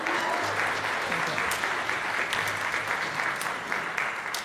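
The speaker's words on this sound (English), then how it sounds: "let's give a round of applause to the people who put this together." Audience applause at a bicentennial event, a dense, steady clapping from a sizable crowd heard fairly close for several seconds, tapering slightly toward the end.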